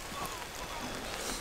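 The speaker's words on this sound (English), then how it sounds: "we gotta get out of the rain" Steady rain pours down on a farm garden, a close, even hiss of falling water filling the whole moment with no break.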